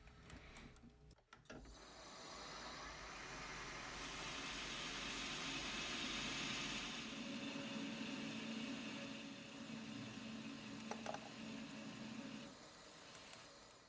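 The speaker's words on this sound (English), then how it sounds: "now it's time to part the ring from the solid rod." A lathe cuts with a steady, faint, grinding hum as a ring is parted from a solid metal rod for a spinning top. The tone stays continuous for about ten seconds, with a short clatter near the start.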